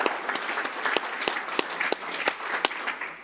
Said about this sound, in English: can we just get another round of applause for Bill McKibben?